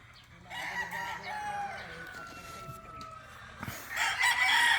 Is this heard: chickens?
yes